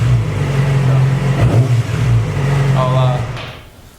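A Yamaha R6 sport bike idling after new spark plugs, a steady low engine hum with a brief blip of revs midway, close, then tapering off near the end, a voice speaking over it.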